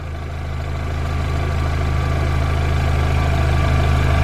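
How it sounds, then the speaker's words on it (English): Cooling fans and the AC compressor run on a 2002 Volkswagen Beetle with a 2.0 engine and an overheating, no-AC fault. They make a steady, loud, close mechanical drone with a low hum that holds evenly throughout, and no voices are heard. "the fans should come on. There they go. And the AC compressor just kicked in."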